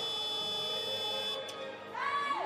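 A buzzer sounds at a women's 3x3 basketball game, a sustained tonal blare that holds and then shifts pitch near the end, over arena noise and commentary voices.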